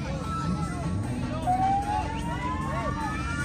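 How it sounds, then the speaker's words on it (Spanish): A wailing siren rises and falls in the distance, heard under ongoing background chatter and street noise. "Escúchame, pero si eso es una sirena."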